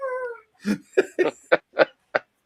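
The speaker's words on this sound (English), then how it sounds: "Why do I hear cats screaming in the distance?" Cat-like yowling calls, a long wavering cry followed by five short, sharp screeches in quick succession, fairly close and clear with no talking over them.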